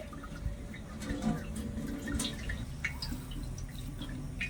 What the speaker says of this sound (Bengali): হালকা করে একটু এভাবে চিপে জলটা ফেলে দিলে কিন্তু হয়ে যাবে